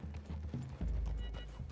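Horses walking in Red Dead Redemption 2, with close, steady hoof clip-clops on the ground and a brief whinny.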